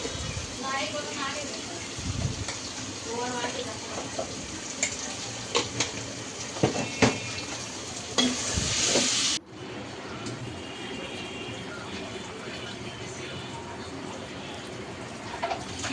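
Tomatoes and spices frying in a pan for a home lunch, a steady sizzle with scattered spatula knocks and scrapes, then a quieter stretch after a brief loud burst, with a voice talking over it.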